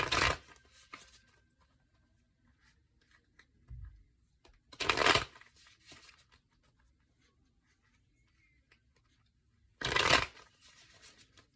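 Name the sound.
tarot cards being shuffled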